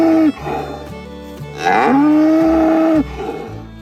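Dairy cows on a farm moo in a few long, low drawn-out calls, one rising louder and brighter in the middle, close and clear over a quiet background.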